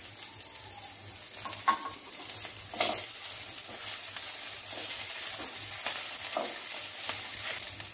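Curry leaves and green chili frying in hot oil for chicken 65, a steady close sizzle with occasional spatula scrapes and crackling bursts throughout, no voices.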